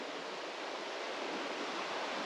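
Steady rushing of flowing creek water in Sunol Wilderness in spring, a constant broadband hiss close by with no pauses and no voices.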